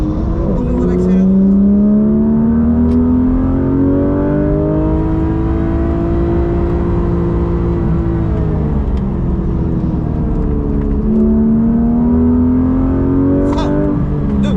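A Porsche 991 GT3 RS accelerates hard on a racing circuit, its engine note rising steadily from inside the car, then dipping and climbing again for a second pull. Someone talks over the engine.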